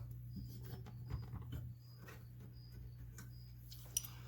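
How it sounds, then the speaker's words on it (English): Faint crickets chirp in short repeated bursts over a steady low hum, with a few soft taps and clicks. "I apologize for the crickets, guys"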